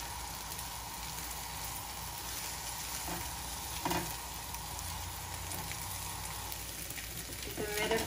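A spinach crepe cooks over medium-low heat in a pan, with a quiet, even sizzle running through the whole stretch, a couple of brief soft clicks, and light handling noise near the end.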